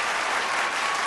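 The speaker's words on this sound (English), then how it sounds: "A biggest round of applause for Hardik Pandya" Guests at the Ambani home burst into a thick, loud wave of applause for cricketer Hardik Pandya after the World Cup win, unbroken across a brief moment.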